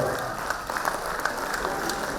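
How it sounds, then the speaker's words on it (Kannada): An audience at an award ceremony for teachers applauds, a steady wash of clapping from many hands heard from within the hall, continuing evenly throughout. "ನಿಮ್ಮಿಂದ ಬರಲಿ ಒಂದು ಚಪ್ಪಾಳೆ"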